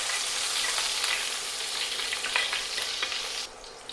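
Crushed garlic frying in hot oil in a pan for a potato stir-fry, a steady broadband sizzle with soft scraping stirs throughout, fairly close, the hiss dropping slightly near the end.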